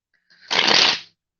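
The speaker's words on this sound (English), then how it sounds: "I'm just going to give all my cards a shuffle here quick" A single brief riffle-shuffle of a deck of tarot cards, a dense close burst of papery flutter lasting about half a second in a quiet room.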